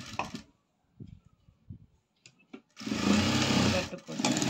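A sewing machine runs briefly in a fast, buzzing burst while stitching a folded seam on a princess-cut low-neck blouse, preceded by someone talking quietly in Tamil.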